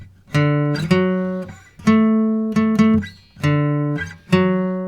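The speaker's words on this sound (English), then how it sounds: "That's what a major third sounds like" Piano-like tones outline a major third from D, the two notes played in a slow repeating pattern with a few extra strikes, clear, close and unaccompanied by speech.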